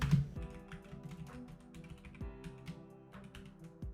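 Typing on a computer keyboard while coding in Unity: a quiet run of quick, uneven key taps close by, with a few sharper clicks standing out, alone without speech.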